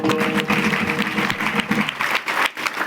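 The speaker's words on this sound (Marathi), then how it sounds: "त्यांच्या सत्कारासाठी एक वेळेस टाळ्या वाजवा सर्व" An audience claps together to honour a swami at a kirtan gathering, a brief burst of dense applause that stays close and continuous, with some voices mixed in underneath.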